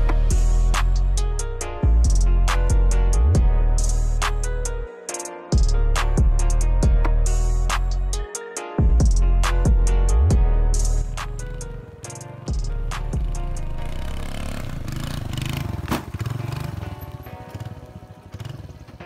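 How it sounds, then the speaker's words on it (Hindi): Engine of a modified Suzuki Access 125 scooter revving hard during a wheelie, close and loud, with repeated throttle surges and brief drops between them before a steadier rasping run. "अभी एक व्हीली मारते हैं और आपको बताते हैं"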